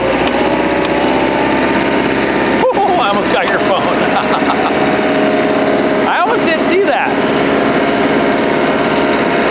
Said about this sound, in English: I'm in 6, I'm just mowing my field